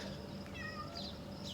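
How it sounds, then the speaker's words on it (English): A cat in Egypt meows insistently for food, a few short, faint, drawn-out cries rising over a steady background hum, heard with no talk. "There's a cat behind me making a very noisy noise."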